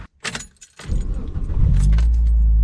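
A Mitsubishi Lancer Evo conversion with a 4G93 SOHC turbo engine starts and moves off: clicks and a faint jingle, then the engine catches and swells into a loud, deep, steady rumble close by.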